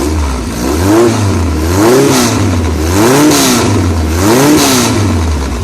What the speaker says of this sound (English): carbs on an M10 engine sound like this